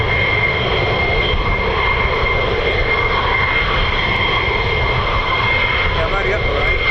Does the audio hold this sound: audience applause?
no